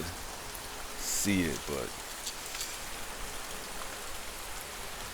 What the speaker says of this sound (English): Man, I love being out here in the rain.